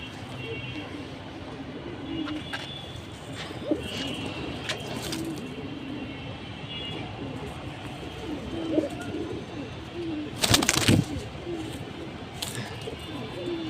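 Soft cooing of military and Hammer Silver pigeons repeats throughout against a steady noisy background, with a brief louder clatter partway through.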